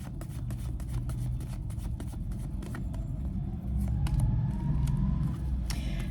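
Tarot cards being shuffled, a rapid flutter of card riffles over a low rumbling background, steady and close.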